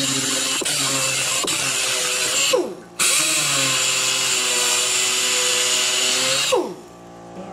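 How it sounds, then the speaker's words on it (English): A small power sander whirs against the natural edge of an oak bowl in two sustained bursts, its motor pitch winding down at each stop, close and alone. "I'm just gonna hit it with my little sander here"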